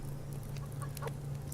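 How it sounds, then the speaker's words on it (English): Chickens in the survival game Subsistence give a few soft, scattered clucks over a steady low hum, with no one speaking. "have a quick look at the chicken situation"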